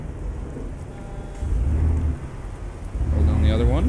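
Rain and thunder in the American Truck Simulator game, steady rainfall hiss with low rumbling thunder swelling in waves, heard from inside a truck cab.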